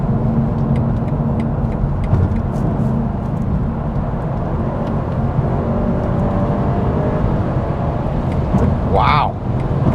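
Inside the cabin of a 2020 BMW M550i, the engine drones loudly and steadily under acceleration, with road and wind noise and a brief high tone near the end.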